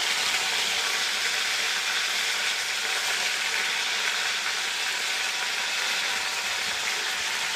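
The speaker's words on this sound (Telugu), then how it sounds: "షాజీరా, లవంగాలు, యాలుక, చెక్క, బిర్యానీ ఆకు వేసుకున్నాను. ఇవి బాగా వేగాలి." Whole spices (shahi jeera, cloves, cardamom, cinnamon and bay leaf) frying in hot oil for mutton keema curry, giving a steady, even sizzle and hiss that runs unbroken throughout, close and alone.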